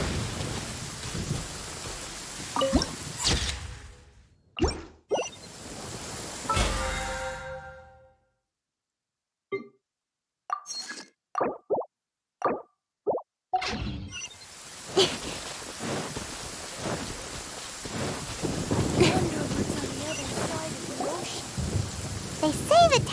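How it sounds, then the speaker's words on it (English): Heavy downpour and rolling thunder in the Genshin Impact world of Inazuma, loud and continuous, with booming cracks and a brief quiet stretch broken by sharp rumbles before the rain returns in full. "Quite a downpour."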